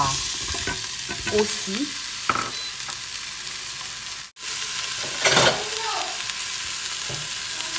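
Spices stirred in a pot as they fry for a mixed niébé dish, with a steady sizzle, scraping and clinking strokes at close range and a brief dropout midway.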